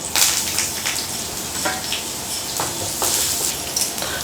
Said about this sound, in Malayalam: ഈ ഉള്ളി ഒരു ലൈറ്റ് ഗോൾഡൻ ബ്രൗൺ ആവണം കേട്ടോ, അതുവരെ വഴറ്റണം.